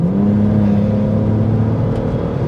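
A modded, tuned 2008 BMW 335i E90 accelerating hard from around 45 with its tires breaking loose, a loud steady engine drone with a rising whine filling the whole stretch, close and continuous.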